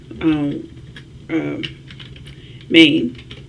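Three short bursts of typing code on a computer keyboard, with quiet gaps between them. Speech-like tones blend into the bursts.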